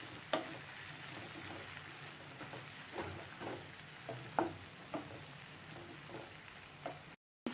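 A spoon stirs and mixes spices into ladies finger rasam in a pot, giving soft scraping and clinking strokes at an irregular rhythm over a faint bubbling bed, close and fairly quiet.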